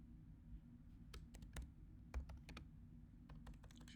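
Quiet computer keyboard typing in short, irregular bursts of crisp key clicks, with faint room hum underneath and no talking.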